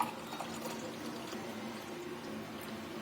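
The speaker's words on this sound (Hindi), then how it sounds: "अब इसमें डालेंगे दूध" Milk is poured into a serving glass holding thandai paste, a quiet, steady liquid stream with a soft splashing texture that runs for the full span, faint and close.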